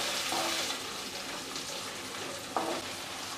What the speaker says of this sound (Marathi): आता यामध्ये आपण उकडलेले शेंगदाणे घालूया। हे सुद्धा थोडेसे परतून घ्यायचे आहेत।